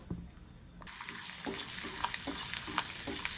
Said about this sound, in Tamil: அது நல்லாவே எண்ணெயில் ஃப்ரை ஆகணும்.